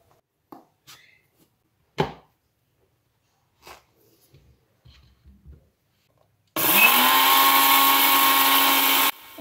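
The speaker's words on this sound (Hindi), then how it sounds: "अभी जो आपने प्रीवियस क्लिप में साउंड सुनी वो इस ग्राइंडर की एक्चुअल आवाज़ है" A Glen mini spice grinder grinding cumin, starting abruptly after a few quiet clicks and taps and running as a loud, steady high-pitched whirring motor for about three seconds before cutting off.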